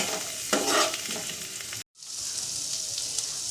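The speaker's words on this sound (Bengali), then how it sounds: "শ্যালো ফ্রাই করে নেব।" Salted potatoes shallow-fry in mustard oil for restaurant-style hing aloo, a loud close sizzle with a few stirring scrapes and a brief cut before the frying resumes.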